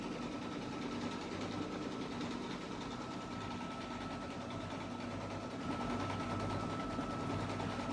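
A computerized embroidery sewing machine stitches out a design, a steady fast whirring hum with rapid needle chatter that runs on unbroken at moderate volume, close by, with no voices.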